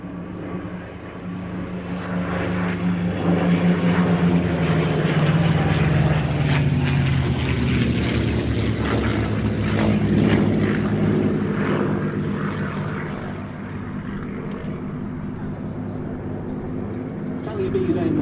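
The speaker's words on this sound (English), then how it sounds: "Here come the fighters once more, P-47 and 2 Mustangs." A P-47 Thunderbolt and two Mustang fighters roar past at an RAF Mildenhall air display, their piston engines swelling to a loud, droning peak midway and then fading, with a commentator talking over them.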